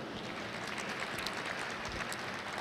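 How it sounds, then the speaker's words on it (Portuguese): An audience at a talk at a tech conference applauds a speaker, producing a broad, continuous, moderately loud wash of clapping with no voices over it. "Eu gostaria de uma salva de palmas para nossa querida Thaís."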